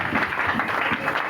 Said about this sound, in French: est-ce qu'on peut d'abord s'applaudir pour soi-même?